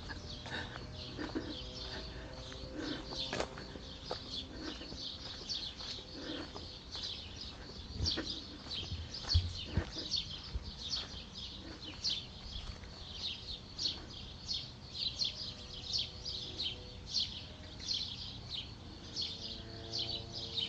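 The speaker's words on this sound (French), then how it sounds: "Même les oiseaux se sentent bien ici." Birds sing at a French countryside campsite stop in Saint-Étienne-du-Bois in June, faint scattered chirps and calls repeating irregularly against a quiet outdoor background.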